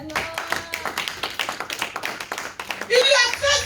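A church congregation at a French-language service claps in quick rhythmic bursts and calls out in acclamation, with voices rising loudly toward the end.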